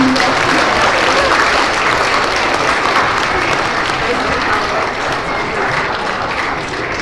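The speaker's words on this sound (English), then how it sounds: "Let's give them one more round of applause." An audience at a Pre-K to third grade school assembly gives a loud, sustained round of applause, thick continuous clapping that holds steady and eases slightly toward the end.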